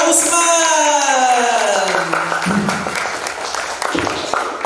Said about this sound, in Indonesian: Yo, tepuk tangannya untuk Kak